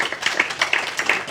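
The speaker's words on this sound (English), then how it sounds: "I think a round of applause for Tasman as well" An audience at a Fieldays dairy-farming session gives a short, close burst of clapping for Tasman, ending after about a second.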